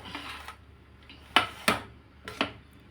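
A plate moves and clatters while lemon rice is mixed on it, giving several sharp, close clinks and scrapes spread across the three seconds, with quiet gaps between the impacts.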